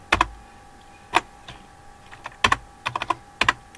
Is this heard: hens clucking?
no